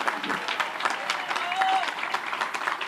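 Dense applause from a crowd greets the Colombian president, Gustavo Petro, as he signs the national development plan bill at a formal ceremony, a continuous close clatter of many hands mixed with crowd murmur.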